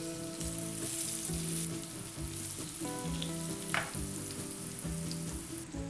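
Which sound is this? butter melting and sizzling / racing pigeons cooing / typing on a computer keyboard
butter melting and sizzling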